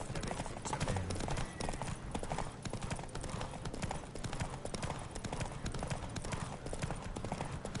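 Hooves pounding in a horse race in The Witcher 3, a dense, continuous galloping clatter at steady loudness with no pauses throughout.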